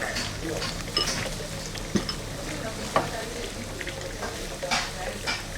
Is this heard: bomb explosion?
no